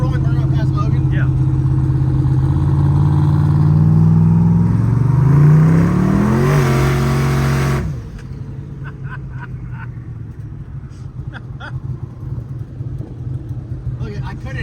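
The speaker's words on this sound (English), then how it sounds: "Should I do a rolling burnout past Logan?" A Chevrolet Colorado pickup does a rolling burnout, its engine revving hard and climbing in pitch with squealing tires, then cutting off abruptly to a quieter cabin rumble with light clicks.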